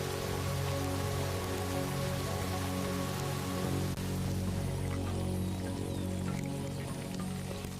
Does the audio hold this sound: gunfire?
no